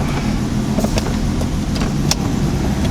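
BMW E24 633CSi with flat tires rolling over a ramp after years stored underground, a low steady engine rumble close by with a few light knocks and creaks as it moves.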